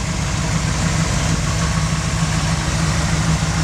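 A 1969 Plymouth Road Runner's 383 V8, fitted with an aftermarket Edelbrock intake and headers, idles steadily with the hood up, a loud, even low rumble throughout and no talking.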